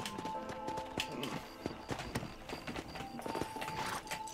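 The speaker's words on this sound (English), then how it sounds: "I gotta remember to slow up on my horse." A horse's hooves clip-clop on the ground in the video game Red Dead Redemption, a quick irregular run of hoofbeats mixed with game music and ambient noise.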